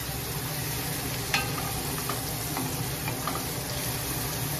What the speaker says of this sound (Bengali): তো এদিকে টমেটোগুলো আর পেঁয়াজগুলো ভাজা ভাজা হয়ে গেছে।